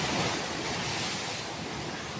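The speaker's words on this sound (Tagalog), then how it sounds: "maingay sa background kasi nga yung alon malakas" Steady roar of ocean waves, a continuous broadband wash of surf with no pauses, fairly loud and close.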